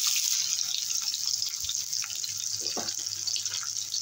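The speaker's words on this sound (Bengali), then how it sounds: "এবার পেঁয়াজটা দিয়ে দেব।" Chopped onion frying in a couple of spoons of oil in a pan: a steady, close, bright sizzle with a few faint clinks and stirring sounds over it.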